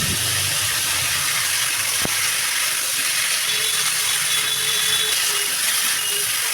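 Chopped vegetable stems and tomatoes for pabda fish curry hit hot oil in a pan and hiss loudly and steadily. A single sharp clack sounds early on, and no voices are heard.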